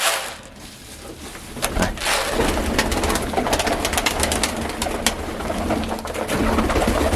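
Pigeons coo close by in a loft in Barishal. Their soft, throaty calls repeat throughout over scattered clicks and rustles, with no talk.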